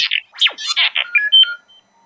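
A mobile phone goes off once, a short burst of bright chirping ringtone tones with sliding and stepped pitches, loud and close, then cutting to silence.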